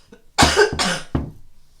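A single person lets out a quick double cough, two sharp close bursts followed by a fainter third, loud and alone.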